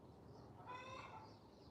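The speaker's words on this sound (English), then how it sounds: "Somebody's got chickens and they just laid an egg." A single hen clucks briefly at a distance after laying an egg, a short run of squawky notes over faint background hiss.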